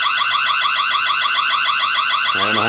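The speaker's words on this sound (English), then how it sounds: "If you activate the alarm features, the camera will emit alerts and sound." A Dzees D3K wireless solar security camera sounds its built-in alarm: a loud, continuous warbling siren with fast rhythmic pulses, close and alone, shifting to a different tone near the end.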